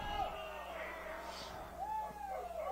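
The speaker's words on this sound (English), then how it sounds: "we're hearing some crowd noise as we expected for the EPAC game" Crowd at a West Virginia high school baseball game, the EPAC matchup of Washington Patriots at Martinsburg Bulldogs, keeps up a steady din with rising whoops and hoots that swell near the start and again toward the end.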